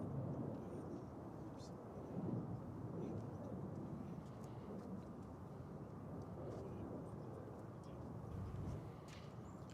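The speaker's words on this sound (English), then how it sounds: "It's an Airbus A320 arriving from El Paso in Texas." An Airbus A320 airliner arrives at DFW Airport as a continuous low, distant jet rumble that rolls on steadily with a broad, wind-like roar.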